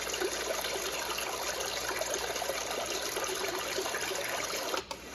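Brook setting on a six-sound white noise machine: a steady, even wash of flowing, trickling water hiss that runs unbroken and fairly loud, with a brief dip near the end.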